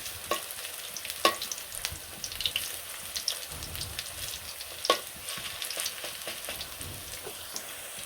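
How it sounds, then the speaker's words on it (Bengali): Lentil fritters (bora) fry in hot oil in a village kitchen, giving a continuous close crackling sizzle scattered with sharper pops and occasional stirring clicks, with no voices. "এই যে বড়াগুলো ভাজা হয়ে গেছে"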